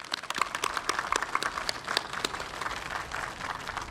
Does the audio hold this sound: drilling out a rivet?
no